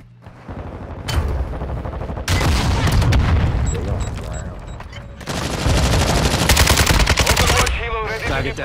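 Call of Duty gunfire, loud sustained bursts of automatic fire and heavy booms in two long volleys separated by a brief lull, with voices briefly audible.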